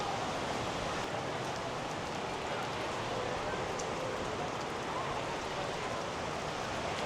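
Rain falls in a steady, even hiss near a cave opposite a sea temple on the Bali coast, a continuous wash of water sound with no voices.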